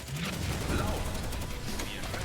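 Rapid bursts of .50 caliber machine-gun fire from a Sherman tank aimed at German machine gunners, a dense rattling fusillade at moderate distance, with someone narrating over it.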